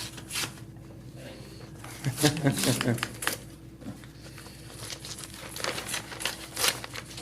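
A taped-shut bid envelope being torn open at a public works board meeting, with crinkling paper and rips in short bursts; close, with people talking in the background.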